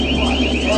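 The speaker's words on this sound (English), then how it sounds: "More deafening alarms immediately indicate a serious engine fire below." Deafening alarms blare inside an RNLI lifeboat fire-fighting simulator during an engine fire scenario, a steady, loud electronic tone with sustained harmonic pitches and no voices.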